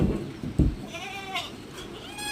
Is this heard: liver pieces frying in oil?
no